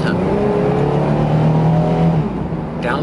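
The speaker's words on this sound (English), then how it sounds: "Downshifts, upshifts, just like it should." A one-owner Chevy Astro minivan with 68K miles drives along with a steady engine hum and road noise, its pitch sliding as the transmission shifts, heard from inside the vehicle.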